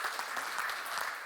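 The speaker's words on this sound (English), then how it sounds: "Big round of applause for Skybase." A brief, steady burst of audience clapping fills the room at a tech presentation event, dense and even throughout with no voices on top.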